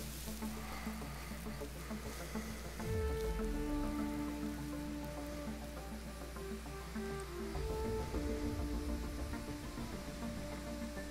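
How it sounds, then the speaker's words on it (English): Video game rain falls in a steady, soft hiss that fills the background, with low tonal ambience and a couple of deeper swells underneath, quiet and continuous. "It's raining."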